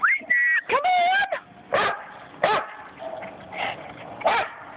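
A boxer dog gives a quick run of high yips, whines and short barks, close and excited, each burst separated by brief pauses with a faint voice underneath.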